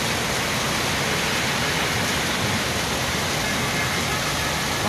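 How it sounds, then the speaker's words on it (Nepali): Heavy rain pours down at night in Riyadh, a dense, unbroken hiss that stays loud and even throughout with no pauses. "यति ठुलो पानी पऱ्यो"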